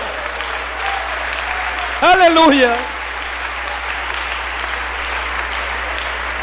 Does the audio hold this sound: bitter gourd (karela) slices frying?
no